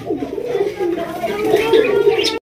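Pigeons coo with low, rolling, throaty calls that continue steadily and close by, with faint background murmur underneath.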